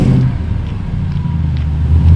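Deep, steady engine rumble from a Jeep Gladiator carrying a supercharged Demon engine on its first road test drive, loud and close, no one talking.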